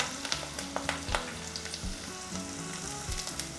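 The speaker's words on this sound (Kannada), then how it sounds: "ಈಗ ಈರುಳ್ಳಿ ಹಾಕೊಳ್ತಾ ಇದ್ದೀನಿ ಈರುಳ್ಳಿ ಕೂಡ ಫುಲ್ ಸಣ್ಣದಾಗಿ ಸಣ್ಣದಾಗಿ ಹೆಚ್ಚು" Chopped onions and curry leaves frying in oil in a pan, a steady crackling sizzle with sharp pops and light scraping stirs throughout, close and continuous with no voices.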